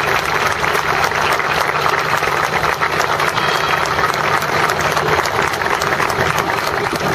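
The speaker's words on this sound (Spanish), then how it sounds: "Un fuerte aplauso para él" Loud, sustained applause fills a Catholic gathering for San Expedito in Bermejo, a thick crowd roar of clapping with a low steady hum beneath it, continuous throughout.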